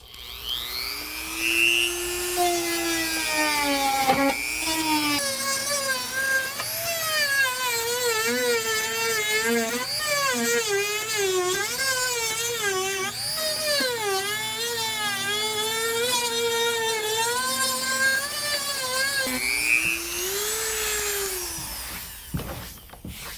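A rotary grinder smoothing the edges of a Stanley FATMAX case, a high whining tone that rises and falls in pitch as the bit loads and unloads, steady and close for over twenty seconds.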